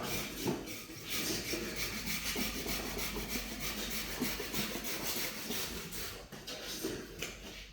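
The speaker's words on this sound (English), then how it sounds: "So now what we want to do, not everyone will do this, I do it, put a stop cut in." An axe strikes a wooden spoon blank to make a stop cut, giving steady, close, dry wooden scraping and knocking with no talking.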